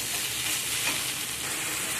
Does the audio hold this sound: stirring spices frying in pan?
yes